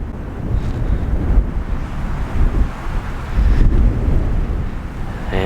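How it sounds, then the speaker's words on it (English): Strong wind gusts outdoors in a Michigan cemetery at dusk, a loud, continuous roaring rush buffeting the microphone, swelling and easing without pause, with no voices. "the wind is now really picking up again"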